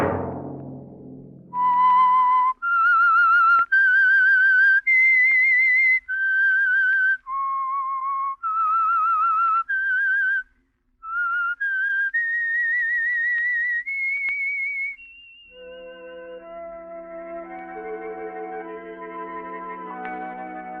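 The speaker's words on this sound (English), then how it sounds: "Let that whistle be your signal for the Signal Oil program, The Whistler" A whistled melody of sustained, clear notes with slight echo plays as a radio program signal, each tone held about a second with short gaps, ending in a softer chord-like fade.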